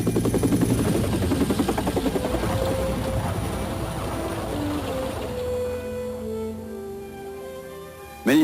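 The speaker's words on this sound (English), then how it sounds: "The unmistakable sound of an Army helicopter." Army medevac helicopter flying in bad weather, its rotor chop pulsing steadily and close at first, then thinning into a fading whine as it passes, with a sudden loud burst at the very end.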